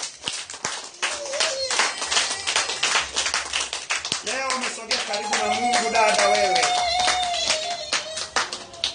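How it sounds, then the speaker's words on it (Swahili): A church congregation at a Bible study and prayer meeting breaks into loud, sustained applause, the many overlapping claps rising into a roaring patter while a preacher keeps talking over it. "Hebu tupigie Bwana makofi makubwa"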